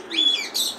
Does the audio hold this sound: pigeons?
yes